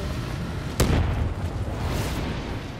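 Grenade blast in Black Ops 3 Zombies, one sharp burst early on that rings out over a steady, noisy bed of game sound and continuous chaotic rumble.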